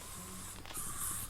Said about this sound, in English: Bug spray, because the bugs are bad.